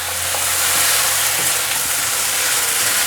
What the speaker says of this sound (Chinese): 持续的这样翻炒，让它的颜色均匀